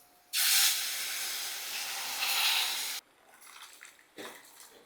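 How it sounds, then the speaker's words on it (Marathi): Hot water poured into a pan of peanut pithla lets out a loud, steady steam hiss and sizzle for almost three seconds, cuts off sharply, and is followed by softer bubbling and two short bursts of spitting. "यामध्ये घालूया गरम पाणी"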